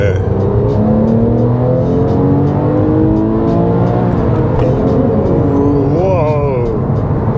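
A Porsche 997.1 GT3 engine pulls hard under acceleration, its loud, rising rev tone climbing through the gears with a smooth, continuous roar heard from inside the car.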